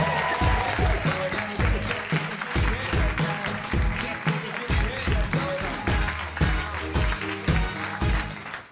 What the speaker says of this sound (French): Un tonnerre d'applaudissements pour Thomas Wiesel.